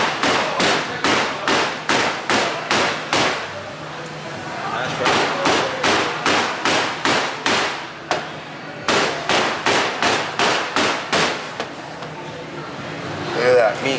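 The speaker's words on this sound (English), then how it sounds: "Got my mallet or whatever." Repeated meat mallet blows pounding carne asada for a burrito, coming in fast rhythmic bursts of sharp thuds with short pauses between runs, close and loud, with a voice speaking now and then.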